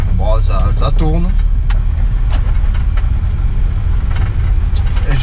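An abandoned BMW E36's engine idles loudly and steadily with a deep low rumble after being started, while someone speaks briefly over it near the start.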